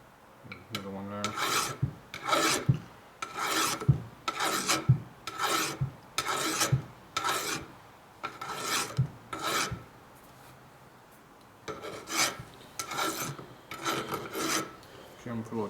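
A hand file rasps a chamfer onto a motorcycle fork part from a 2004 Harley FLHT Twin Cam touring bike, in steady back-and-forth strokes, a dozen or so evenly spaced, close and moderately loud.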